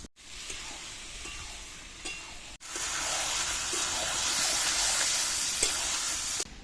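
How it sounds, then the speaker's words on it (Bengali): Marinated chicken drops into hot, oil-released masala with turmeric, setting off a loud steady sizzle after a brief gap, with faint stirring scrapes and no talk. "এদের ম্যারিনেট করা চিকেনটা দিয়ে দেবো"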